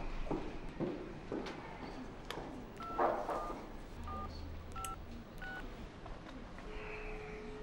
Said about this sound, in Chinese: 快打电话吧。